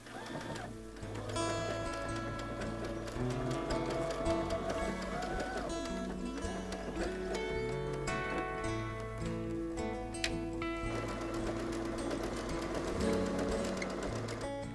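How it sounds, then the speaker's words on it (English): A sewing machine runs a blanket stitch along the edge of a quilt, giving a steady close mechanical whir and rapid needle ticking throughout, with no talking. "Then I'm going to switch it over to my blanket stitch."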